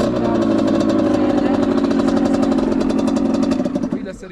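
A Rieju 50cc motorcycle engine runs close by with the throttle held open, a buzzing, raspy drone that holds steady and then drops off at the end.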